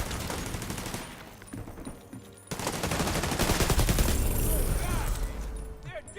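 A turret in The Division 2 fires in rapid bursts, a dense rattling stream of gunfire that pauses briefly and then returns louder and sustained, with other combat noise around it.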